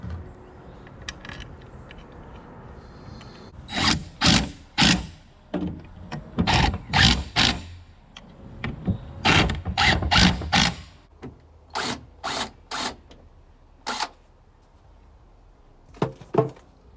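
Screws are driven in while a Humvee fender is installed, with a series of sharp, loud tool bursts and clicks close by, some coming in quick clusters and others spaced apart, over quiet shop background.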